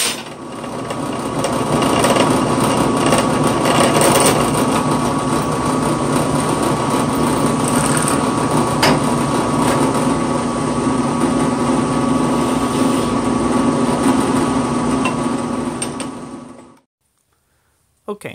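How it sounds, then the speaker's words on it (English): A drill boring a hole through a small metal bar for a forged miniature hammer pendant, a loud, steady high whine running continuously for about seventeen seconds before cutting off abruptly. "now that we got that hole drilled"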